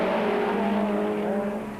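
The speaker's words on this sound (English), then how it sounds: "Millen throwing that Castrol Toyota Hilux around with gay abandon" A Castrol Toyota Hilux race truck, driven hard in a 1997 Super Series race, snarls at high revs with a sustained harmonic engine howl that fades slightly as it moves away.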